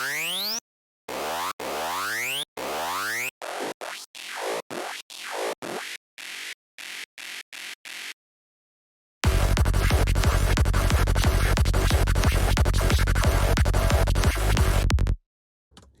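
The Remote is Broken Lead patch from the Sick Noise Instruments Trypticon synth library plays as a run of short bouncy, pitch-sweeping synth stabs, then a long buzzy sustained lead tone that cuts off abruptly.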